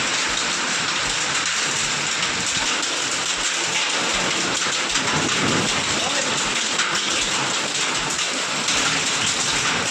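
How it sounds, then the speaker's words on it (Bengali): Heavy rain with hail pours down in a dense, loud, continuous roar, with low rumbles of thunder mixed in and faint talk barely audible beneath the storm. "শিলা বৃষ্টি হচ্ছে বন্ধুরা, দেখো।"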